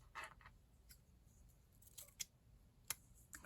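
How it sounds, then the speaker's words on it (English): Scissors cutting down a journal cover for a DIY travelers notebook, several short crisp snips spread apart, close and quiet against a hushed room. "I'm going to cut this down after all."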